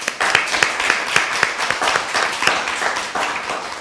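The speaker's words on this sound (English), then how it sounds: "I'm kind of thinking of a round of applause for them that have carried most of the work here." Audience applause at the close of a conference session on climate and security, a steady patter of clapping hands from a room, moderately loud and continuous throughout.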